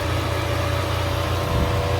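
A Bentley Continental GT engine idling smoothly, a steady low rumble with an even hum, close and constant with no variation or talk.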